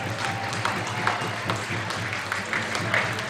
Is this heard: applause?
yes